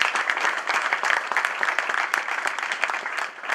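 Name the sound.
audience applause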